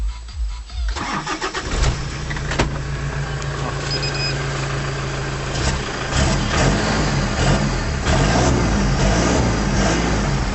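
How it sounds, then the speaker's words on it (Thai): A Toyota Vigo 4x4 pickup engine turns over and starts, then runs steadily with revs rising and falling, loud and close, with no one speaking. "เราจะมาลองฟังเสียงเครื่องยนต์ดูนะครับ"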